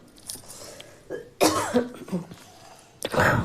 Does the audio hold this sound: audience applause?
no